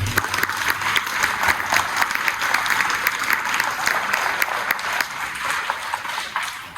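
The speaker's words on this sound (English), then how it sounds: "Please clap it up for Kylie." An audience claps steadily at a school board meeting recognition ceremony, dense even applause filling the room throughout with little variation.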